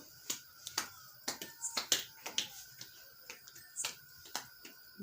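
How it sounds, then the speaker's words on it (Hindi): Sharp, scattered hand claps from a few people during a Diwali Lakshmi puja at a farmer's home, irregular and crisp, coming in short bursts with brief gaps between them. "बजाओ ताली।"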